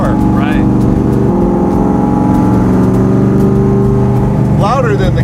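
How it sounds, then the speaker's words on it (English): A 1967 Ford FIA Fastback Mustang with straight-through mufflers rumbles loudly and close, its engine droning at a steady pitch with brief blips of revving at the start and end, while voices talk over it. "I think the car sounds exceptional."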